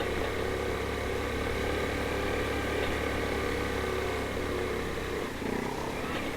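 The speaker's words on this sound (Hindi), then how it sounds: "आरपीएम अगर आप नीचे करेंगे तो फिर जो बाइक है वो एकदम उसका ज़्यादा जोर लगेगा" A motorcycle engine labours up a steep hill climb near Pir Sohawa, a steady close mid-pitched drone held at constant revs throughout with no one talking.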